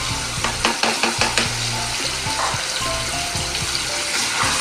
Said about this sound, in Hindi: एक से 2 मिनट हम लहसुन अदरक में इसको फ्राई करेंगे चिकन को भी।